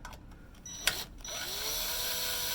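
An impact drill fitted with a hex drill bit whirs up and holds a steady buzzing run after a couple of brief knocks, close and fairly loud, during assembly of a Roberts #75 steam engine base and boiler.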